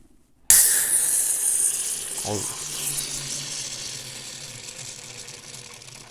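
A can of Guinness Draught, shaken on the way home, cracks open with a sudden sharp burst of hiss that settles into a long, steady fizzing and foaming, close and fairly loud, with a brief clink partway through.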